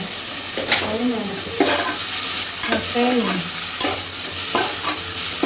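Tomato and mint sauté in a pan and are stirred repeatedly. A continuous sizzle runs under rhythmic scraping strokes that repeat about every second.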